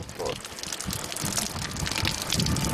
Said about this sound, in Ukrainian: Вода в пляшках кажуть, нагрівається швидко. Отак от і моємося.